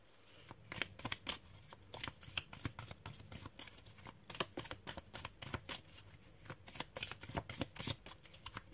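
Tarot cards shuffled by hand for a reading, a steady run of crisp riffling snaps and soft slaps, close and fairly quiet, with no talking.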